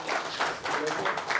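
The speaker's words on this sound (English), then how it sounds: "Applause for Mohan and Ranjan." An audience claps for two presenters at a DevSecOps security talk, giving a short burst of scattered applause that swells and dips in waves for just over a second.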